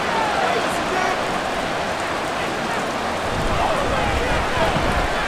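Steady rain hisses in a Madden NFL 24 simulation of the Arizona Cardinals against the Seattle Seahawks, a loud, constant downpour wash across the stadium with no pauses.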